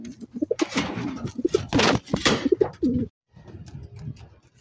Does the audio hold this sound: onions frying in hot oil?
no